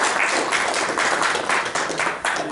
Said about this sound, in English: So let us give a round of applause to Anandita.